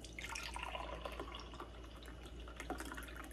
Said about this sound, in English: My assistant's going to open up the can and pour it in the glass.